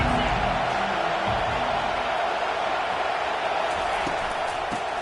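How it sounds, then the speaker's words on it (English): Roar of a football stadium crowd cheering at an early-season top 25 college game, a dense, steady wall of noise that holds loud and unbroken throughout, with a commentator's voice faintly underneath. "This crowd trying to show them what it's going to be like all day in this house."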